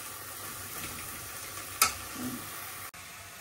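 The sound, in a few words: banana flower fritters frying in oil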